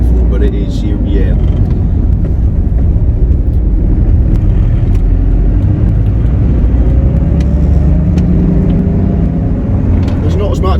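Inside a 2000 Jeep Cherokee XJ with a VM diesel engine, a steady low engine drone and road rumble mix with moderate wind noise while on the move, loud and continuous, with someone talking over it.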